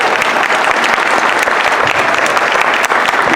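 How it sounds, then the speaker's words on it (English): An audience at a Cook County State's Attorney candidate forum at Chicago State University applauds candidate Kim Foxx, a loud, dense, sustained burst of clapping from a large crowd filling the room. "Let's give her a round of applause."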